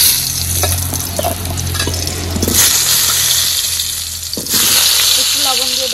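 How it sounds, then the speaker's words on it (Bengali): Potatoes hit hot oil in a karahi with a loud, bright sizzle that swells abruptly partway through and keeps hissing steadily, with a few clinks and stirring scrapes near the pan. "আলুগুলো তেলে দিয়ে দেব।"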